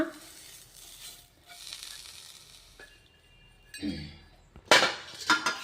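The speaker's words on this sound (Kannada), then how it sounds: "ನೋಡಿ ಕರಿಬೇವನು ಸ್ವಲ್ಪ ರೋಸ್ಟ್ ಮಾಡ್ಕೋಣ." Soft sizzling of curry leaves and coriander roasting in a pan for chutney powder, with scattered clinks, ending in louder sharp crackles and pops near the close.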